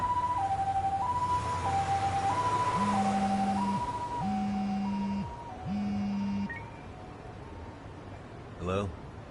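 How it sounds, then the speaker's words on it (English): An ambulance siren in the video game Lost Judgment, a loud two-tone wail alternating steadily for several seconds, with a lower repeating horn-like tone and a brief burst near the end. "Can you get an ambulance over to your bar right away?"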